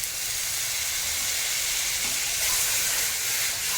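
Water poured into a pan of spice paste frying for a prawn curry sets off a loud, steady, broad hiss of steam and sizzle that holds close for several seconds with no talk.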